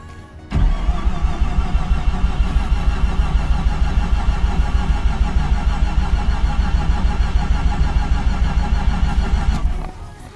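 A Mazda RX7 rotary engine cranks and catches after a short quiet start, then runs loud and close with a fast, choppy, uneven idle for about nine seconds before it cuts off.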